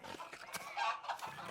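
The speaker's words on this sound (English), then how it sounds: "These chickens are so cute." Chickens in the medieval video game Pentiment give soft overlapping clucks and burbles, low and close, over a faint ambient backdrop.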